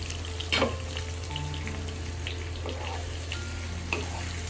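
Ground spice paste for biryani sautés in a hot pan, a close, steady sizzle with a few sharp stirring scrapes and clatters breaking through.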